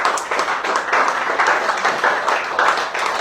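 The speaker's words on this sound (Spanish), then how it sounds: "¿Quién le da un aplauso al Señor?" A church congregation applauds for about three seconds at a year-end service, steady close clapping from many hands with no talk over it.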